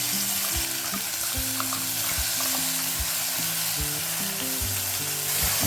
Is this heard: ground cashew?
yes